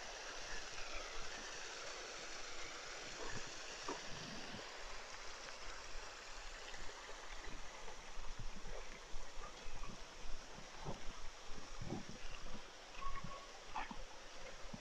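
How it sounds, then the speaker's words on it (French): Steady rushing water fills the scene, a continuous outdoor splash and hiss of a small cascade with occasional faint knocks and rustles nearby. "Quelle belle petite cascade."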